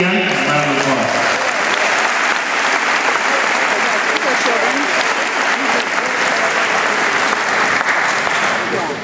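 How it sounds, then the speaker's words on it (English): Audience at a high school graduation ceremony in Vernonia applauding, dense sustained clapping filling the hall at steady loudness, with a few voices briefly audible at the start. "A round of applause."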